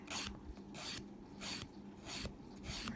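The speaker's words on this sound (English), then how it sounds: "Buffing, buffing, buffing." A buffer rasps across the surface of acrylic nails in five rhythmic back-and-forth strokes, close and dry, each stroke a bright scratchy swipe with short pauses between, no talk.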